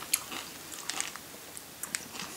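Close-up chewing of a Crispy Crunch chocolate bar, with irregular small crisp crunches and mouth clicks scattered over a quiet background.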